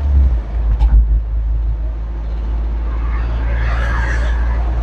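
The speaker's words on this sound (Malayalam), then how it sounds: "എനിക്ക് പെട്രോൾ ഞാൻ ഓടിച്ച് നോക്കി, അപ്പോൾ ഞാൻ ഓവർടേക്ക് ചെയ്ത് പോവുകയാണ്" A Tata Intra V20 bi-fuel pickup running on petrol while overtaking on a road, with a loud, steady low engine drone, a few bumps near the start and some passing traffic noise.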